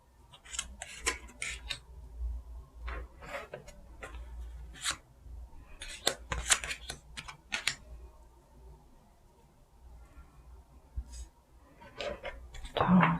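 Tarot cards being shuffled by hand, with soft repeated riffling slaps and clicks in irregular bursts, close and fairly quiet, with no talking.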